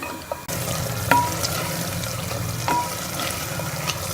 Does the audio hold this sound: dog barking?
no